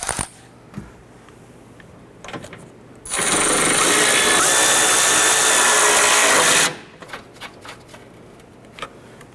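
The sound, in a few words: power tool snugging down strut nuts on Honda Pilot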